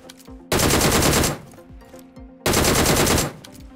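DP-28 light machine gun firing in BGMI, two loud sustained bursts of rapid automatic fire separated by a quieter pause with ambient game noise, no talking.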